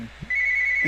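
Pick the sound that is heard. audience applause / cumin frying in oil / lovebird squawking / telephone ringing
telephone ringing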